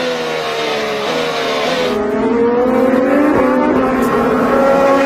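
IndyCar race cars at Barber Motorsports Park accelerate hard through the final turn onto the front stretch, their high-pitched engines screaming and climbing through the gears in a loud, continuous, close-up roar with rising and falling pitch sweeps.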